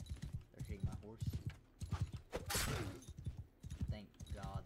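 Horse hooves clatter through a Mount and Blade Bannerlord battle charge, rapid clip-clop beats running under near-constant excited talk, with a brief loud burst of combat noise midway.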